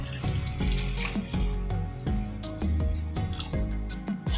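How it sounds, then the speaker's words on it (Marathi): Cold water poured into cream in a pan while making homemade ghee, with a steady splashing trickle and dripping that runs for a few seconds, close by and fairly loud, with no talking. "थंड पाणी टाकलंय मी यामध्ये।"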